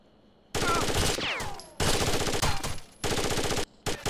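Rapid automatic gunfire in Rainbow Six Vegas 2, three loud sustained bursts separated by short pauses, close and harsh with ringing shell clatter.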